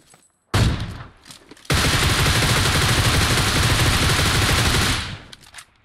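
Dense gunfire in the video game PUBG Mobile: a single loud burst, then a long continuous fusillade of rapid shots lasting several seconds before fading out.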